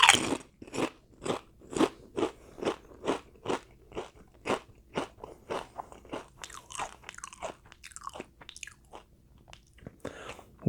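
Someone bites into and chews a crunchy shamrock-flavoured potato chip with green specks, giving a regular run of loud, close crunches that soften into quieter chewing and crackles.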